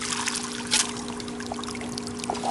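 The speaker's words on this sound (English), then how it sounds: "Look at the amount of water that's coming out of this." Water gushes and splashes steadily out of a basement sump pump pipe, a constant close trickling rush with a faint hum underneath and no talking.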